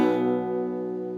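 A single guitar chord, with the 4th string muted, rings out and sustains, slowly fading, close and alone without any talk.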